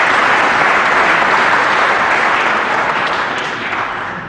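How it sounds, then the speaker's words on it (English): Audience applause at a talk on communication in tech, a dense sustained wash of many hands clapping that holds steady, then slowly fades toward the end. "So, applause for Marcia"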